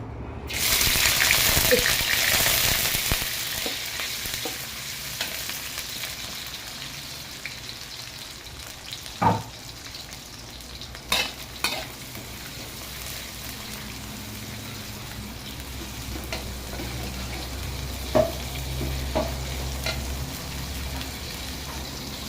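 Sliced ingredients hit hot oil in a wok with a loud sizzling burst at first, settling into steady frying hiss with occasional clinks and stirring scrapes throughout.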